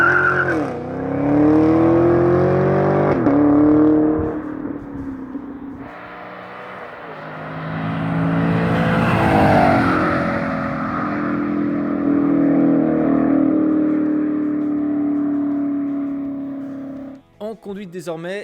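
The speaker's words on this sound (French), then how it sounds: "quand elles accélèrent, bon bah voilà, ça marche fort, le V8 se fait entendre" A V8 muscle car engine, one of a Mustang, Firebird, Camaro or GT500, revs and pulls hard through rising gears, loud and close, with speech running over much of it.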